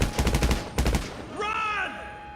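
Rapid automatic gunfire in GTA 5 Online, two quick loud bursts of closely spaced shots, then a sliding siren-like electronic tone as the firing stops.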